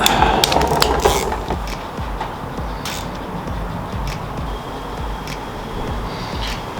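A ratchet tightens bolts on a Mazda Miata coolant housing during a coolant reroute install, giving rapid clicking and metallic clatter that is busiest at the start, then lighter intermittent ticks, close up, with no talk.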